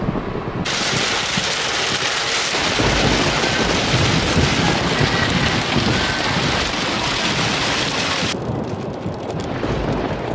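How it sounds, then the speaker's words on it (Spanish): Heavy rain pours steadily during a thunderstorm caught on the road back to Miami, a loud dense wash throughout with thunder rumbling beneath it, no voices. "pero al volver nos cogió una tormenta."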